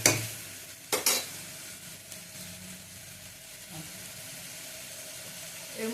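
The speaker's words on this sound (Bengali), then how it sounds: "এই মটরটা এর মধ্যে দিয়ে দিলাম। এটাকে একটু নাড়াচাড়া করে নিই।" Soaked, washed peas being stirred in a pan with a few sharp scrapes at the start, then a quiet, steady hiss and light sizzle.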